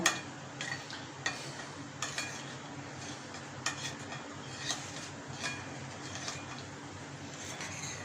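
Fish is mixed with Schezwan marinade in a bowl, giving soft repeated clinks and scraping taps in an uneven rhythm, close and quiet, with no voices.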